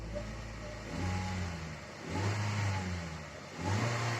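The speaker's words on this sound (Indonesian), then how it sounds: "naikkan RPM-nya, ya." Car engine revved repeatedly during exhaust gas analyzer testing, three rising throttle blips about a second apart from a low idle, close and fairly loud.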